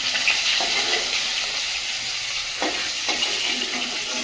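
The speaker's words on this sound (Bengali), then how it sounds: "মাছ বেশি ভেজে না, পুড়ে পুড়ে যাচ্ছে" Belly fish pieces fry in oil, a continuous bright crackling sizzle with a few soft clatters of stirring, close and alone without speech.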